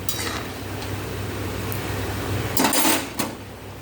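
A cooking pot of fish roe curry lifted off a gas stove gives a couple of close metallic clanks and scrapes near the end, over a steady hum of burner and kitchen background.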